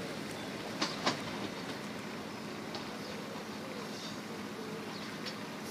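A Class 153 diesel railcar, unit 153381, passes a level crossing at Sleaford East in Lincolnshire, its steady rumble heard at a distance along with two brief sharp clicks early on and faint background noise throughout.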